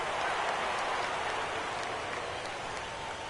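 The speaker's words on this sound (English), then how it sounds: "Rain continues to fall here in the 6th." Steady rain falls over a baseball stadium during the sixth inning of an MLB The Show 17 game, a continuous broadband patter that holds evenly throughout with faint commentary underneath.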